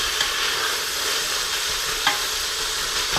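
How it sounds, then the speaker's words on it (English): Peppers sizzle steadily in heated olive oil, a close, continuous frying hiss with a couple of brief stirring clicks. "And now I'm sauteing some pepper"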